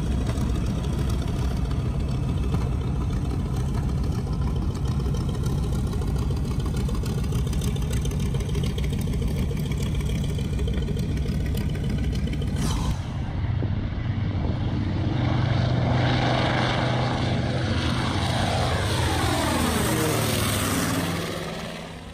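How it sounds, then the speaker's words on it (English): A B-25 Mitchell bomber's engines roaring at an air museum event, a steady loud drone that shifts midway into a rising, whining surge, close and sustained. "You can hear the engine roar"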